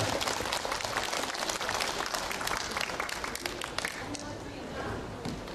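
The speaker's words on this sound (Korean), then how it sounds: "큰 박수로 다시 한번 격려해 주시면 고맙겠습니다" A crowd gathered for an outdoor singing contest for people with disabilities in Marronnier Park gives dense, sustained applause. The clapping is loud and continuous at first, then thins slightly toward the end.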